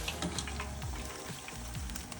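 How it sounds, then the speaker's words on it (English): Tempura coated in protein-flour batter deep-fries in hot oil, a continuous close crackling sizzle with bubbling bursts and occasional low stirring or flipping sounds, no talking. "You wanna flip them and make sure that they're frying."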